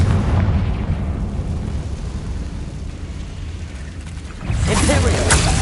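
A Confringo fire-blast spell going off in a Hogwarts video game, a loud, dense roaring rumble that fills the scene and swells again with a fresh burst near the end.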